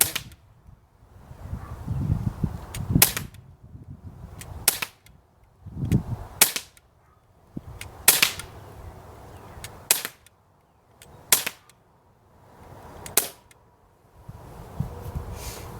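A Crosman P10 air pistol fires a string of single sharp cracks, about eight shots spaced a second or two apart, close and loud, with quiet handling noise between them and no talk.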